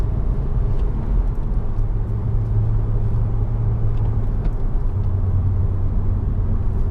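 A Porsche Boxster cruising on the road with a steady, deep engine drone and rumble heard from inside the cabin, loud and unbroken throughout with no talking.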